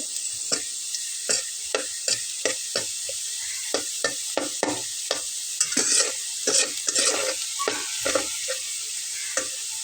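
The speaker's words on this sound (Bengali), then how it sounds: "শুকনো মরিচটা ভাজা হবে" Two dried red chilies sizzle and fry in a pan with spices, a steady hiss under repeated sharp scrapes of a spoon stirring at a quick, uneven rhythm.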